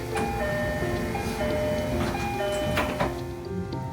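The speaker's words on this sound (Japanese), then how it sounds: "ドアが閉まります。" A chiming door-closing warning tone repeats inside a local train on the Nagasaki Main Line, followed by a soft thud of the doors, in a steady cabin hum.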